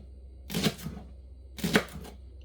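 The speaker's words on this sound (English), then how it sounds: "Get rid of the top and just cut chunks." A knife chops potatoes into chunks on a cutting board in a home kitchen. Two separate bursts of crisp cutting each bring a couple of quick thuds against the board, close by, and nobody speaks over them.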